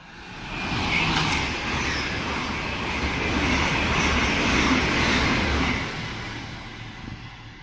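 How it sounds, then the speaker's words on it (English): An IET train roars past nearby at Ealing Broadway on the Great Western Main Line, swelling from a steady rumble into a loud whooshing rush before tapering off, with a faint high whine overhead. "We have another IET passing through."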